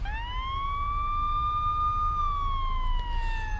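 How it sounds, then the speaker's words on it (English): A single wailing police siren sounds in a video game, a clear rising and slowly falling tone held steadily over a low background rumble, fairly close and without talk. "Approaching sirens piercing the air with an incessant wailing direct our attention to"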